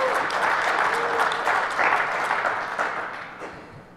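A conference audience at a DEFCON awards session claps and cheers together, a dense, loud burst of applause that gradually fades.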